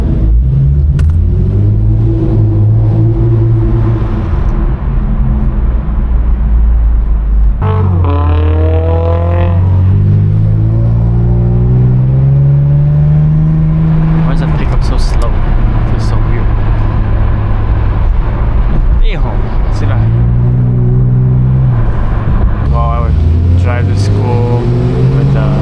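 A Toyota 86 with a loud aftermarket exhaust drives nearby, the engine droning and rising in several revving pulls with rumbling swells between, heard close over road noise while people talk.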